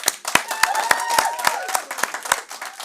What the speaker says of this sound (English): let's have one last final round of applause and give it up at home as well for all our fantastic winners